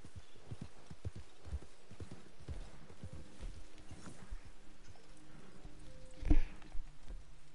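Horse hooves clip-clopping in a video game, a steady, fairly quiet run of hoofbeats across the whole stretch, with one louder thump near the end.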